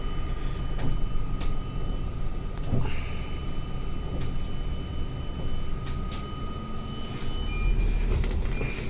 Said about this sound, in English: departing Manukau Bus Station now. We're gonna reverse out because it's this type of bus station